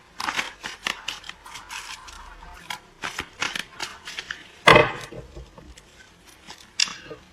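A deck of cards is cut and handled up close, giving a quick series of soft snaps, slides and taps with one sharper clack midway.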